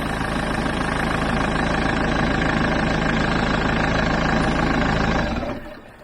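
A steady, low van engine idles close by from the front of the vehicle with a constant rumble, then cuts out near the end, leaving quieter background.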